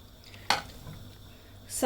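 Leafy greens (saag) drop into a large cooking pot holding fried fish, giving two brief clattering, rustling bursts with a quiet stretch between, close up, and no speech.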